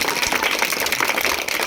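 Dense, steady applause from a village audience at a rural magic show, with many hands clapping together at close range and no voices for the whole short burst.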